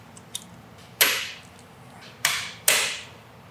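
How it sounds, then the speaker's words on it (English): Hammer striking the valves of an engine that sat seized for over 50 years, three sharp metallic whacks about a second apart with a faint tap before them, loud and close with no talk. "hitting these valves like that with a hammer"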